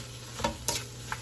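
Lao fried rice being stir-fried in a hot pan, a steady low sizzle broken by three quick scraping stirs of a spatula, close and soft.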